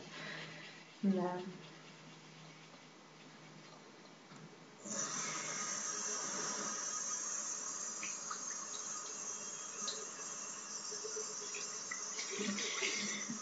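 Water runs steadily from a tap, a continuous hiss that starts partway through after a quieter stretch with faint movement sounds.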